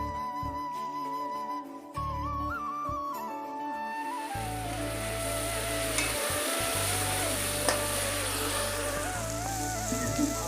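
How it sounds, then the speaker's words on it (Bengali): Potatoes fry in a pan in a village home kitchen. A steady sizzle builds after a few seconds and continues over low humming and tonal background noise. "এই লাস্টে আলুটা ভাজছি আমার নিজের জন্য"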